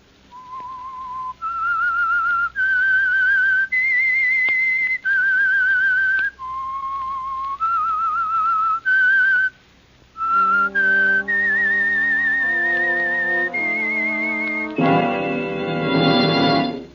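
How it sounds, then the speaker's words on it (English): A clear, close whistled melody, the theme of an old radio drama, with distinct sustained notes and short pauses, joined near the end by fuller accompanying tones. "That whistle."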